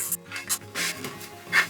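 A small Cricut tool is rubbed firmly over a sublimation transfer wrapped on a 20oz tumbler, giving a few short, close scratchy rubbing strokes.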